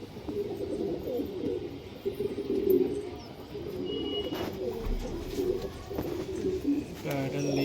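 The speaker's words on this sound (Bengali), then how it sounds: "পাকিস্তানি পায়রা, গোল্ডেন ফিমেল দাদার।" A golden female Pakistani high flyer pigeon coos in soft, repeated low calls over a steady background murmur, close to the microphone.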